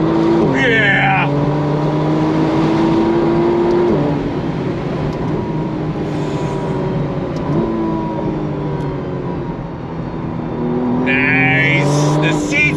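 A 2025 McLaren Artura Spider supercar's engine climbs through the revs in repeated rising pulls, loud and close from inside the cabin, with brief gear-change dips between runs and a voice talking over it.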